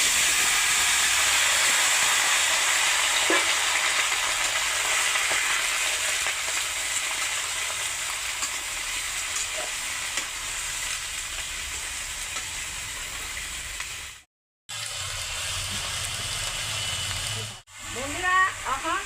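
Mixed winter vegetables fry in a pan with a loud, continuous sizzle and hiss that drops out briefly twice near the end.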